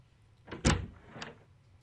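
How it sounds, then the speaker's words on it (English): A door opening in the visual novel Chaos;Child, heard as a short thud with a sliding swish and a softer second knock, alone without talk. "But then the sound of the door opening cut her off."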